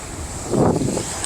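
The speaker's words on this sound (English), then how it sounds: "it's kind of windy" Wind gusts buffet the microphone at a bay shore in a brief whooshing rush that swells in the middle, with a low rumble and no voices.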